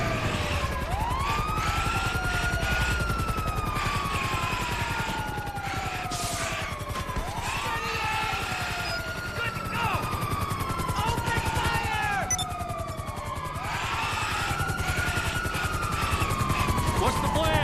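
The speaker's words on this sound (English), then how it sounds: "Did he really hop in the heli?" A helicopter whirs steadily through GTA V Online gameplay, mixed with loud repeated police siren wails that rise and fall, plus scattered bursts of gunfire.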